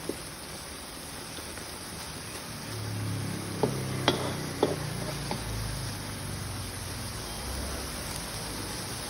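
Squid stir-fries in a pan with its black ink, giving a steady soft sizzle with a few sharp clicks of a utensil against the pan partway through and no talking.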